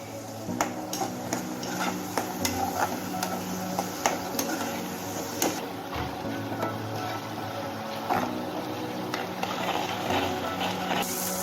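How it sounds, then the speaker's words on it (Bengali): Ginger-garlic paste sautéing in a pan for an egg rezala: a steady, soft sizzle under frequent light clicks and scrapes of a stirring spatula, with no talk. "এর সাথে দিয়ে দিচ্ছি আদা রসুনের পেস্ট দেড় চামচের মতন এটা ভালো করে একটু কষাতে হবে"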